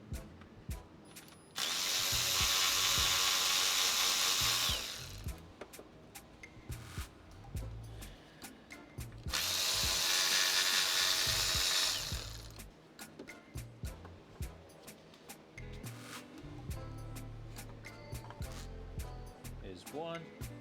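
Two long bursts of a power ratchet or drill whir remove the 10mm bolts on the Vanos solenoids of a 2007 BMW 530xi, with lighter clicks and rattles between them and someone talking throughout.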